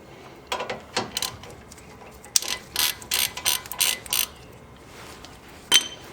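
A ratchet wrench clicks in quick bursts while loosening the 17mm caliper bracket bolts on a Honda Civic during a front brake pad job, close and crisp, with short pauses between runs and no speech.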